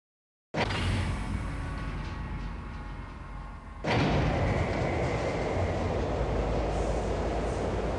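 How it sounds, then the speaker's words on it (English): Automated transit train from the Half-Life video game rumbling steadily along its track, swelling abruptly into a louder, denser roar midway through, with a continuous close mechanical drone throughout. "This automated train is provided for the comfort and convenience of Black Mesa residents and visitors"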